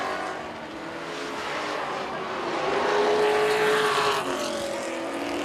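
Race cars at a fair racetrack during a race, one car spinning out, roaring steadily with rising and falling engine tones as several cars pass fairly close in a continuous loud drone.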